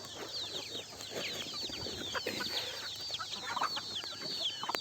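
Free-range desi village chickens in a netted enclosure cluck and chatter softly and continuously, with overlapping bird calls heard at a modest distance.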